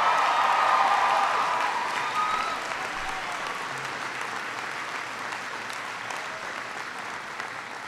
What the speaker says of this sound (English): give Leslie a great round of applause for her wonderful introduction